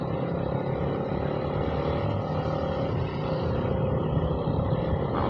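A steady, dense motorcycle engine drone mixed with road and wind rumble carries on without a break during a road ride behind a KTM 390.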